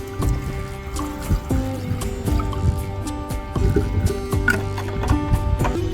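Water pours into a batch of homemade kanji, the probiotic drink, a steady close splashing and trickling fill with soft drips, heard alone over a faint tonal background.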